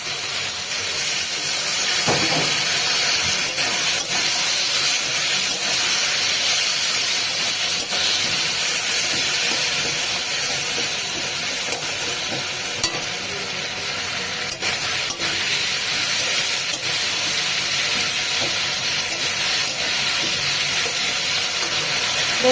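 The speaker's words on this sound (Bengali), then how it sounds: "নুন হলুদ দিয়ে সামান্য জল দিয়ে একটু কষিয়ে নেবে" Pabda fish curry sautés with salt, turmeric and a little water, giving a loud, continuous steamy hiss and sizzle that holds steady throughout, with occasional faint stirring clinks.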